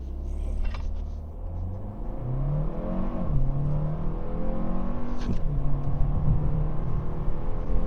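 A 2025 Kia K4 sedan with a turbo engine pulls hard in sport mode, its smooth, steady rising drone climbing in pitch through the gears, heard from inside the cabin with a low road rumble beneath.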